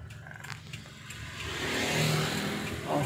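A Suzuki Katana driven on a road test, its front wheel under scrutiny above 40 km/h, with a mid-pitched engine rising steadily as it accelerates, a steady road roar building and growing louder toward the end.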